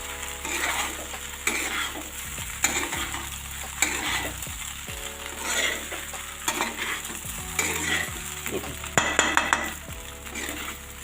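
A spoon stirs and mixes a leftover-rice snack coloured with red chilli in a frying pan, with scraping and clinks against the pan over a continuous sizzle and soft music underneath.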